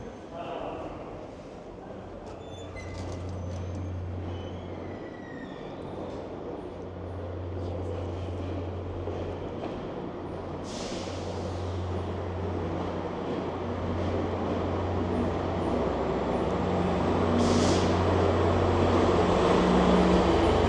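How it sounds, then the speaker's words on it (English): A westbound GO train pulls away from a station platform amid rush-hour gridlock, a low, distant rumble that slowly swells louder over the roughly twenty seconds while voices carry in the background. "Departing train"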